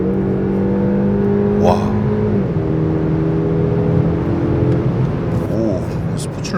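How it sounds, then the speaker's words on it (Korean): A 2025 Mercedes-Benz E300 W214 AMG Line accelerates hard in sport mode, its engine note climbing steadily and stepping through a downshift from inside the cabin, with people talking over the rising drone. "여기서 좀 가속을 해볼까요? 그래도 스포츠 놔줘야지."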